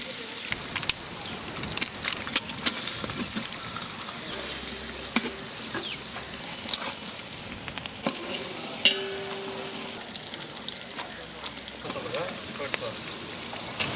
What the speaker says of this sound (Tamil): எண்ணெய் சேர்த்து மீன் வறுக்க போகிறேங்க